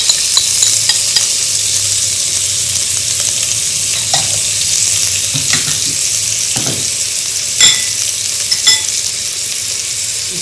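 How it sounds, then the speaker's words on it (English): Ginger paste, cumin and cashew nuts sautéing in a hot pan, a loud continuous sizzle broken by occasional scrapes of a spoon, close and without talk. "I'm going to saute this up."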